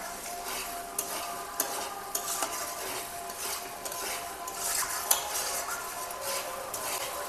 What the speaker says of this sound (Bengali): মাংসটাকে সুন্দর করে ভাজা ভাজা করে একদম কষিয়ে নিলাম।